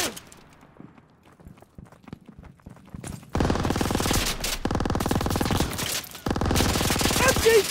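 Machine gun fire in Call of Duty WWII arrives in dense, sustained rapid bursts after a quiet opening of scattered light footsteps, loud and close, with a short gap before the firing resumes.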